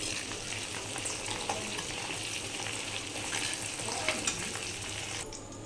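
Hibiscus flowers being stirred in oil over a very low gas flame for a homemade hair oil: a continuous close frying hiss with soft scraping stir strokes, easing slightly near the end, no talk.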